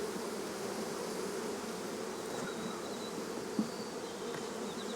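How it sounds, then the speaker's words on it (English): Saskatraz honey bees hum at an open hive: a steady, close, even drone of many wings that holds without a break and with no talking. "These Saskatraz bees have done very well"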